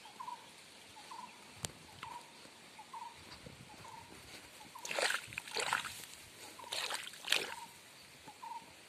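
Irrigation water poured into a row-planted brinjal field in Devgad, intermittent splashing and sloshing bursts over a quiet outdoor background with repeated bird calls.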